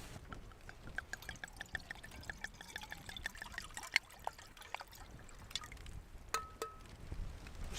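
Wine trickles into a glass at a winter mountain campsite in a storm, a faint, quiet pour with small drips under a constant rush of wind and rain.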